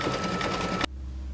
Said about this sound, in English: This is gonna stitch, and we'll be right back when we change the thread color to the aqua will be the next color.